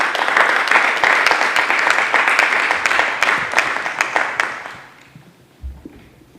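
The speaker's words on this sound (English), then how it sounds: "A round of applause for all those people nominated." Applause from a school committee meeting audience in an auditorium, a sustained wash of many hands clapping that fades out over the last seconds.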